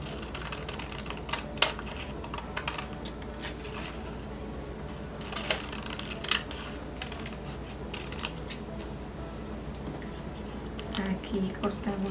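Scissors snip through a strip of fabric for a circular ruffle dress, giving irregular crisp cuts at close range, with soft rustling of cloth in between.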